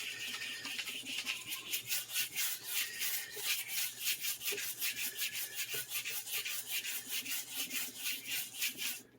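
Guitar wood is sanded by hand with 150 grit sandpaper, producing a steady series of rhythmic rasping back-and-forth strokes, close and moderately loud, with no talking.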